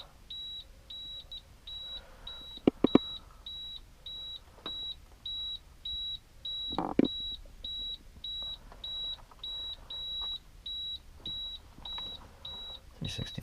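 A house water filter and ultraviolet light system beeps high and electronic at a steady, regular pace throughout, with occasional clunks and faint background noise between the tones.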